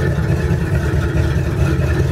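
A 1969 Ford F-100 pickup with a V8, manual gearbox and Flowmaster exhaust idles loud and close, its deep, steady engine rumble continuous throughout with no voices.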